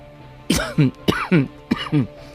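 Three sharp, close coughs in quick succession, each a harsh burst with a throaty tail, separated by brief pauses.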